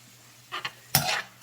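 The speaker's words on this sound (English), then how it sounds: "Leave it there to sizzle a little bit." Brief bursts of frying hiss as peppers cook in a pan for Jamaican patty filling, a couple of short scrapes followed by a louder sizzle, close by with no talking.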